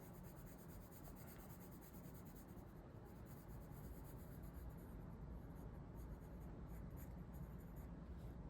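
Watercolor pencil scratching steadily across paper while a thick layer of color is laid down, a close, continuous dry rubbing that runs on with no pauses or voices.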